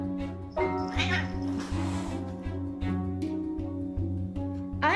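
A crabby house cat yowls and meows in drawn-out, rising complaints at other cats, the cries loud and close over a steady low rhythmic hum.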